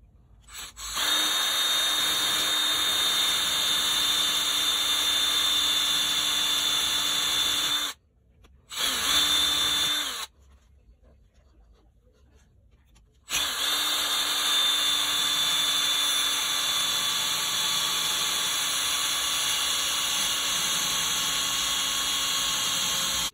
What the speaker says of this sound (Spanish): con la ayuda del disco, vamos a proceder a removerla